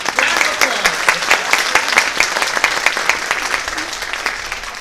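Loud, sustained audience applause after a singing performance at a cultural gala, a dense rapid clatter of many hands with a few voices mixed in, holding steady before easing slightly.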